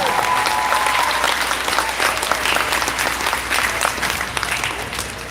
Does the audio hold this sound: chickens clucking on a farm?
no